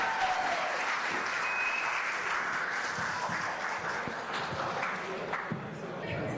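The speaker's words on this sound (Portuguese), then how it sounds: "Uma salva de palmas, gente." A crowd at an evening lecture event applauds continuously, a steady wash of many hands clapping at a moderate distance for about six seconds.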